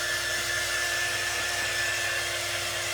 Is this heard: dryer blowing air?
yes